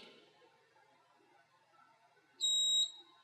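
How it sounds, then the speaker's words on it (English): An Anycubic Photon 3D printer gives a single short, high electronic beep as it powers on, clear and close against a quiet room. "Not sure why it beeps, but it does."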